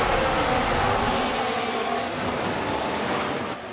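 Race cars roaring away together at the start of a Formula 1 race in F1 Manager 24, a dense, steady engine wash from a full grid on medium tyres that holds loud, then eases slightly at the end.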